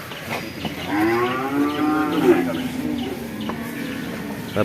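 At the Kollannur livestock market, a cow gives one long, loud moo that rises and falls over a couple of seconds, with faint birds chirping and people talking nearby.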